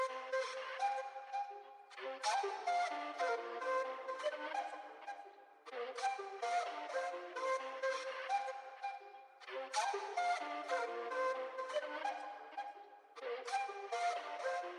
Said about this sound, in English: the second flute phrase is sounding like this